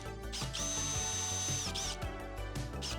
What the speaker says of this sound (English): And then we just drill the screw holes.